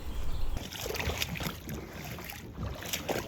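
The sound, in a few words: paddling a kayak on water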